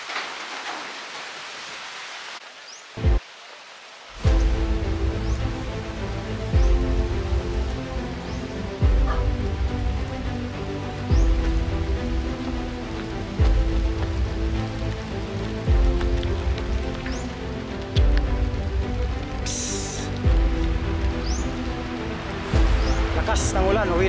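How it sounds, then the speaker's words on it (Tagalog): Heavy rain pouring steadily at a construction site with a concrete retaining-wall foundation, a dense loud hiss across the whole stretch after a sharp knock, while someone talks over the downpour. "Lakas ng ulan, uwi na tayo."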